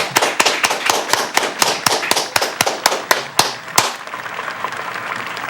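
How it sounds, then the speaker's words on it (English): An audience clapping together in celebration, a string of sharp, evenly spaced claps at a steady beat that stops after about four seconds and leaves soft room noise. "clap hand."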